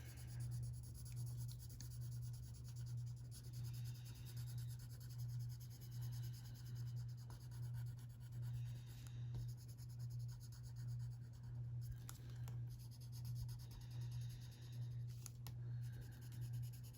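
A colored pencil rubs across tan paper in a continuous close, soft scratching, the strokes running steadily in a quick rhythmic back-and-forth, with no talk over them.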